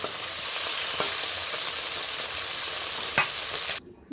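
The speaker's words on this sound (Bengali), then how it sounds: "আমার কিন্তু মাছগুলো ভালো করে ভাজা হয়ে গেছে" Amudi fish frying in hot oil, a loud continuous sizzle with a couple of faint pops, cutting off abruptly at the end.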